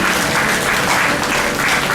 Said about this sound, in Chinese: 我们再一次为我们的爸爸一个掌声